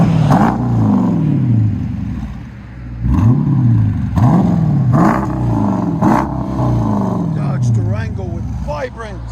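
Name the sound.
2019 Dodge Durango R/T HEMI exhaust revving, resonators, X-pipe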